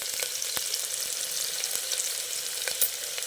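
Sliced onion fries in a spoonful of oil inside a pressure cooker for a mutton gravy, a bright, steady close-up sizzle with a few crisp pops and clicks.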